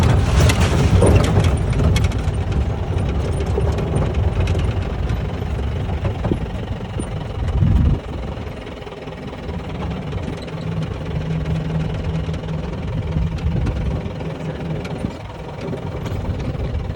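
A loaded Campian vehicle's engine runs after a carbon antidote treatment, giving a steady, close, even drone with a faint rough knock that holds for the whole stretch, with no talk.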